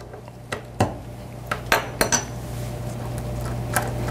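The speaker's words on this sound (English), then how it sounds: "We can get the wrenches out of the way." Metal wrenches set down on a bench while a chromatography guard column is assembled, several sharp separate clinks and clanks, close and fairly quiet, with no talk.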